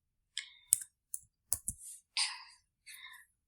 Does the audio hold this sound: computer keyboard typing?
yes